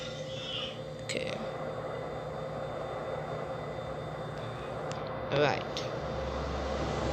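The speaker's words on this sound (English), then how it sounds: "Alright, start up engine 2." An ATR-42 turboprop engine spools up in a flight simulator game, a steady whining drone with cockpit clicks and a brief louder burst, while a voice speaks briefly.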